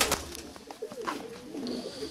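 A pigeon from Sumy gives a short burst of soft, warbling coos up close, with rustling and handling sounds around it.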